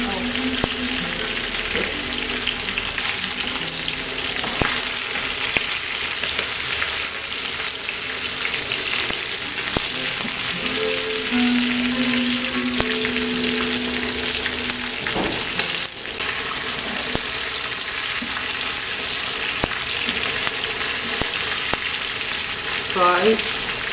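Onions frying in a pan for Persian barberry rice with saffron chicken, giving a continuous close sizzle with occasional utensil knocks and scrapes, fairly even in loudness.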